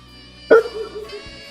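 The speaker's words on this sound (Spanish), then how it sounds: "aquí pueden escuchar a mi perrita Candy en este momento." A small pet dog gives one sharp, close bark followed by a brief whining tail over a steady low hum.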